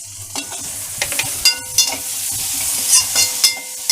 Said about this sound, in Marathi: आता यामध्येच मी टोमॅटो टाकून घेते.